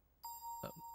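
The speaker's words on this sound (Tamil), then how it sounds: "போன் இப்பதான் அடிக்கணுமா?" A phone gives a brief electronic ring, a steady clear tone that starts abruptly and holds for under a second, fairly close, in a quiet room.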